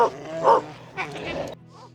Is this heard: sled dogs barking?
yes